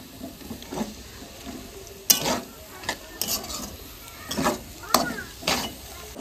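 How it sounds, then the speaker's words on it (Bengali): Potatoes frying with egg in a home kitchen, crackling softly in a pan while a utensil scrapes and clinks against it in irregular bursts. "প্রিয়া ঘরে আলু ভাজা করছে, সকালে টিফিন খাওয়ার জন্য ডিম দিয়ে আলু দিয়ে ভাজা করছে"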